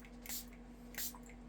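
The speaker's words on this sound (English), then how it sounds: "I'm going to spray this" Spray bottle misting water onto Stampin' Up! paper craft pieces, two short, soft, close hissing bursts about half a second apart over quiet room hum.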